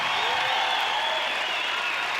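A studio audience applauds on a 1995 Australian Gladiators episode, with dense, steady clapping and faint crowd noise filling the whole short stretch.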